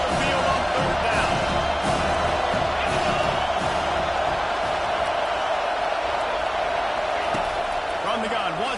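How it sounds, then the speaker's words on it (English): A stadium crowd at a Miami football game roars steadily as the defense tries to get off the field on third down, a loud continuous wash of cheering with an announcer talking over it. "Here comes this whole crowd as the defense tries to get off the field on third down."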